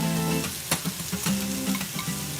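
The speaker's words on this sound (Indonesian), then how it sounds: "ini kita panaskan minyak dan kita akan menumis bawang putih dan juga wortel terlebih dahulu nih, plus buncisnya" Garlic, carrots and green beans sizzle in hot oil as they are sautéed, with a steady close-up frying hiss punctuated by soft stirring clinks and scrapes.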